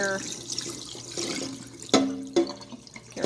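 Leftover coffee and wet grounds poured from a filter into a sink, splashing and gurgling down the drain in a few uneven bursts with a couple of louder sloshes, fairly close.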